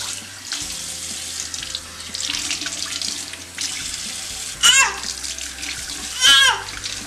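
A tap runs steadily into a sink during handwashing, a loud close splash throughout, with brief surges of stronger gushing and faint child babble alongside.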